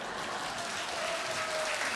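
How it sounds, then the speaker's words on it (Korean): Audience applause at a Korean art song festival concert, a soft, steady wash of many hands clapping that holds at an even, fairly faint level throughout. "아니, 박수 치셔도 돼요."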